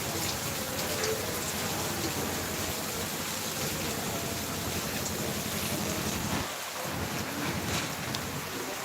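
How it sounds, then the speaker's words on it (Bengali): Heavy monsoon-style rain driven by stormy gusts of wind sweeps over Bhangar after an intense heatwave, a loud, unbroken broadband roar and hiss lasting throughout with no voices. "বৃষ্টি কিন্তু শুরু হয়েছে ভাঙুর জুড়ে"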